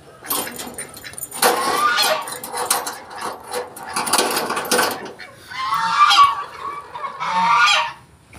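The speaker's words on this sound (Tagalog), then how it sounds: "May gansa sila dito." Geese in a backyard pen honk loudly and repeatedly at close range in bursts, with a few shorter calls and pauses between them.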